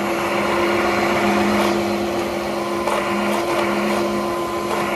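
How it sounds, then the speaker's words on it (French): A Dreame H15 Pro cordless vacuum mop with roller brush running on a floor, a steady close whine with a constant hum and faint rattling debris, no talking. "Dès que je recule l'aspirateur serpillière balai, on a ce système de bras robotisés."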